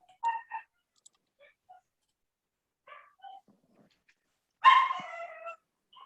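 Indoors, a dog gives a few soft yips and whimpers spaced apart, then one louder bark, all set against near silence.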